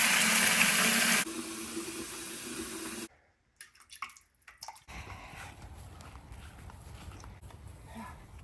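Water pours and splashes loudly for a few seconds, then softens into a gentler trickle, followed by brief clattering and steady running water, while a chicken waterer is refilled on a farm.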